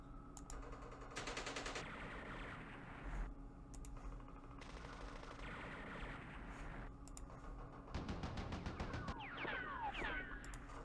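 Bursts of gunfire in the Vietnam war game Campaign Series Vietnam, repeated rapid machine-gun rattles and shots in several volleys, faint and clear with no talk over them.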